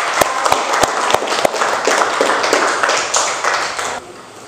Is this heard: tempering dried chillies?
no